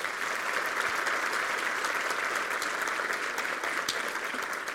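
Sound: congregation applause welcoming the pastor

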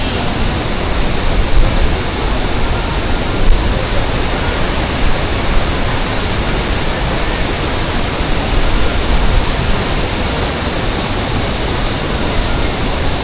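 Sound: rushing, splashing river water at Vishnuprayag confluence

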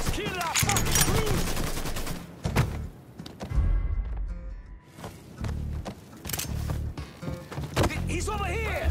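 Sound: gunfire from Mafia III video game shootout

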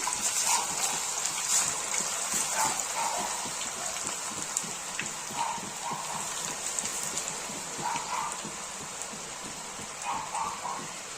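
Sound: snake gourd chips deep-frying in oil in a kadai

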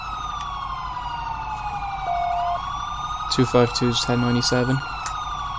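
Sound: police car sirens in GTA V roleplay video game

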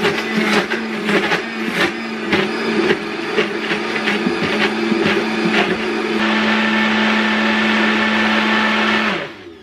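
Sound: blender blending coconut milk smoothie

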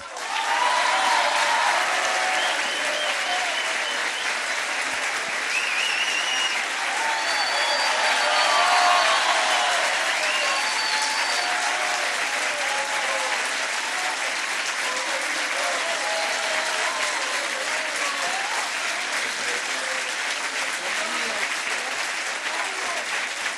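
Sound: audience applause, ovation

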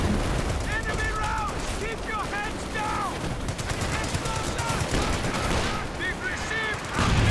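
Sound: machine gun fire in video game Company of Heroes 2

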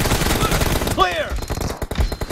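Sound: gunfire in the video game PUBG Mobile

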